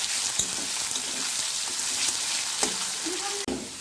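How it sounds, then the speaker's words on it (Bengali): Chopped onion fries in hot oil already seasoned with bay leaf and white cumin, a steady close sizzle with faint stirring clinks and a brief scrape near the end. "আর আমি যে একটু পেঁয়াজ কুচিয়ে রেখেছিলাম সেই পেঁয়াজটাও আমি এখানে ভেজে নেব।"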